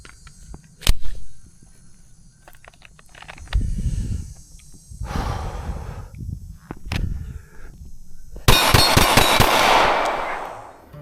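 Glock 19 pistol fired at steel targets on a range at 7 yards, sharp loud reports arriving singly and then in a fast cluster of closely spaced shots near the end, with no talking.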